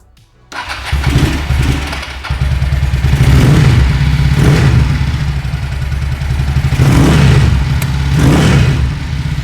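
A 1981 Ducati Pantah 500 motorcycle, given a little choke, fires up close by and loud, settles into a throbbing idle, then gets blipped into several sharp revs at regular intervals.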